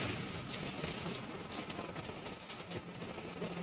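Steady rain that has fallen since the previous night, on a surface amid flooding, a soft continuous hiss with scattered drips, fairly quiet and even throughout.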